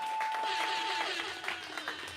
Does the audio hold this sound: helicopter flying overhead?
no